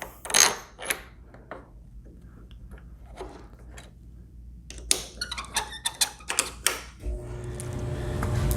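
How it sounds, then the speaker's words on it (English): Short bolts tightened by hand on a riser adapter for a Concours 14 motorcycle, with creaking, squeaking metal and a series of quick clicks and thunks close by; no talking. "Take the shorter bolts that were included in the kit. Tighten up these."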